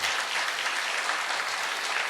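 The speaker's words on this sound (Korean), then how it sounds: "그냥 박수가 나왔는데" Steady applause from a church congregation during a worship service, dense and even clapping that fills the whole moment without letting up.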